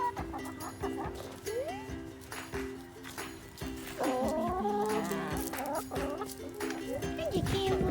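Chickens cluck and squawk nearby in short bursts, mixed with people talking and some farmyard background noise.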